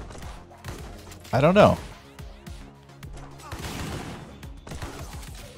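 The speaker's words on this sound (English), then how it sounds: "Is this the starting gun?" A burst of gunfire from a starting gun in the anime-style shooter Mullet Mad Jack, one loud cluster of shots followed by further scattered bangs and game effects, with someone talking over it.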